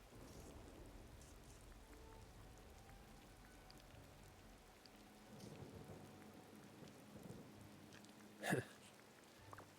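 In the video game Disney Dreamlight Valley, a heavy rain downpour hisses steadily throughout, and a short sharp crack stands out near the end.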